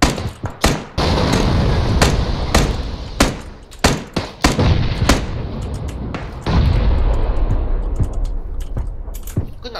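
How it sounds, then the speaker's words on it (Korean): Gunfire in the battle royale game PUBG: Battlegrounds, with loud, sharp shots fired in irregular bursts, some in quick succession, over a low rumbling game background. "여기서 총소리 나요"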